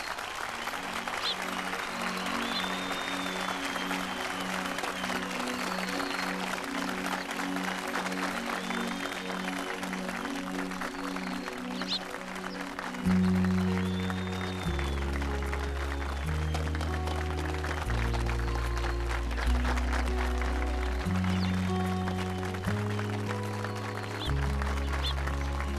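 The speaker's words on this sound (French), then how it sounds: "Faites un tonnerre d'applaudissements." Steady applause from a crowd claps on and on, with a bouncy musical tune playing underneath throughout.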